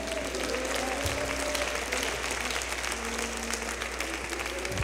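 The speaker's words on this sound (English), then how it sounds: "clap your hands and say amen" A church congregation claps their hands together in a steady, dense wash of applause that holds evenly throughout, over a low constant hum in the room.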